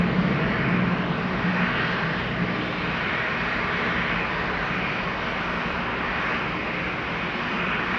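Engines of a Dash 8 turboprop spool up at Amsterdam Schiphol Airport, giving a loud, steady, close roar that holds for the whole stretch with no talking over it.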